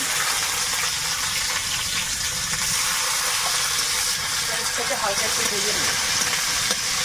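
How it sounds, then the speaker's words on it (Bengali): Onion frying in oil with black cumin seeds in a wok, a steady broadband sizzle and hiss throughout, with a voice speaking faintly over it. "কড়াইতে আবারও তেল দিলাম একটু কালো জিরে এবারে দেবো পেঁয়াজ"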